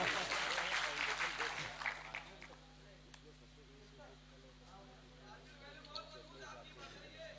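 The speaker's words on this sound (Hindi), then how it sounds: "एक बार जोरदार ताली बजाइए ताकि मैं पढ़ सकूं।" Audience clapping at an Urdu-Hindi poetry mushaira, a burst of applause loudest at the start that thins and fades out over the following seconds, with faint crowd murmur underneath.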